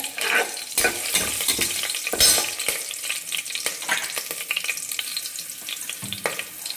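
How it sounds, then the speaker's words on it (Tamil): Chicken biryani masala being stirred in a frying pan, a steady close sizzle broken up by repeated scraping strokes of a spoon against the pan. "எல்லாத்தையும் போட்டு நல்லா ஒரு தடவை கிளறி விட்டுக்கோங்க"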